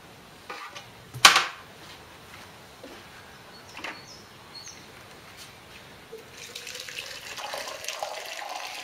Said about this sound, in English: fill this with boiling water, which we will do now